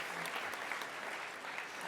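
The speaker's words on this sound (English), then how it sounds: "Please give a round of applause to Hannah." A conference audience in Amsterdam gives a steady wash of applause for a speaker at a session on AI in business, evenly sustained and slightly distant.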